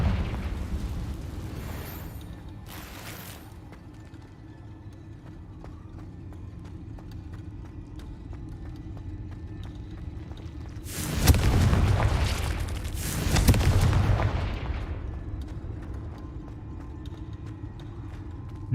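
A Confringo fire spell in Hogwarts Legacy goes off as two loud, broad blasts a couple of seconds apart, rising over a steady low in-game background rumble with faint scattered clatter.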